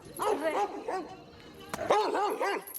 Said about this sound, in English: What is the problem with that dog?